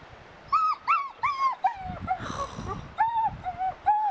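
Dogs barking and yelping in repeated short bursts at a lakeside camp by Serre-Ponçon, moderately near and clear, with a brief stretch of wind or rustling noise in the middle.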